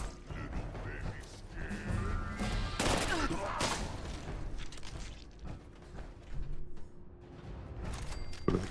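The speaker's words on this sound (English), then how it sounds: "I should probably use my plasma caster for this, shouldn't I?" A plasma caster firing in Fallout 76, loud bursts of energy shots with mechanical clatter and creaks, irregular and close, while a voice talks intermittently.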